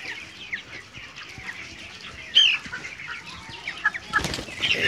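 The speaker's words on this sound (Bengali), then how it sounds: "দেখুন মুরগি কীভাবে পানি খাচ্ছে।" Close, busy clucking comes from poultry-farm chickens drinking from nipple drinkers, with a few sharper squawks and light wing movement over a steady flock murmur, no voices.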